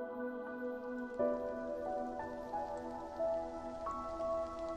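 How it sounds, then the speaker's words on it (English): Steady rain patters on a surface outdoors in the video game Love and Deepspace, a soft continuous hiss beneath a louder sustained melodic music track. "I guess it's raining outside or something."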